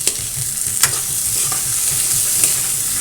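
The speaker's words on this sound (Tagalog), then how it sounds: "Tunog na yung bawang." Garlic sizzling in a hot pan, a steady close crackle with soft periodic scraping as it is stirred, no talking.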